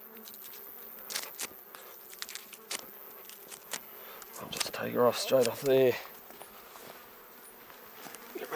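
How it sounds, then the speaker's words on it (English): Flies and wasps buzzing around meat being cut from the bone outdoors, a faint, intermittent insect drone running under someone speaking nearby. "Get rid of some of those flies and wasps."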